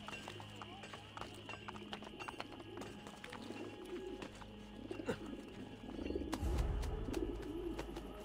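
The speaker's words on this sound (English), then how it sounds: "Pigeon." Pigeons coo amid a busy Renaissance city soundscape in Assassin's Creed Brotherhood, with horse hooves clip-clopping, crowd murmur and game music layered together.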